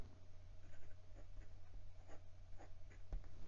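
A stiff Leonardo Momento Zero fountain pen nib scratches faintly across paper in short, soft strokes, close and quiet with a low background hum.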